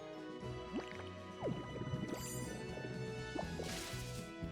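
Plants get watered in a video game, a quiet run of drips, squishy splashes and short watery thwacks, closing with a brief hissing spray.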